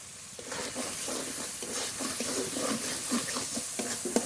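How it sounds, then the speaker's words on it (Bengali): Masala for a desi duck curry fries in oil, a steady close sizzle with repeated scraping stirs of the spoon through the pan, no talking. "মশলাটা খুব ভালো করে কষিয়ে নেব"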